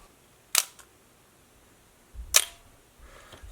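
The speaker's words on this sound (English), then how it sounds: "So this is a slow shutter speed." A film SLR camera fires its shutter at a slow speed: two sharp clicks about two seconds apart, each with a faint trailing rattle, close and isolated in a quiet room.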